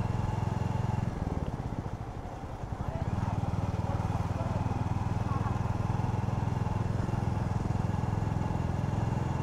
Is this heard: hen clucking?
no